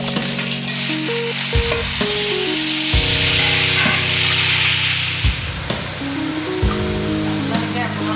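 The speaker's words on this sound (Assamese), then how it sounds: "এতিয়া বিলাহীকণ মই অকণমান ভাজি ল'ম" Tomatoes frying in a pan with panch phoron and chopped green chillies for a tomato, cauliflower and fish curry: a loud, steady sizzle with occasional stirring, under a sustained tonal hum.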